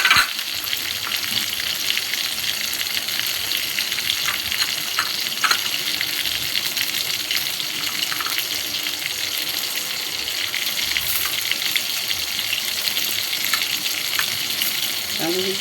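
Eggplant pieces with black cumin seeds frying in oil while being stirred, a dense, bright, constant sizzle with scattered scraping and crackle, close-up and without talk.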